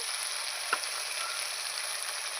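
Boal fish and potatoes frying with salt and turmeric hiss steadily and fairly softly, with one brief stir or clink early on and no voices.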